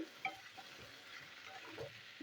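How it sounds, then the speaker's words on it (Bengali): Tetu bhaji, bitter gourd, fries in a covered pan, a faint soft sizzle with occasional light clinks and stirring sounds, quiet and close. "দেখুন বন্ধুরা, এইভাবে আমি ভাজছি"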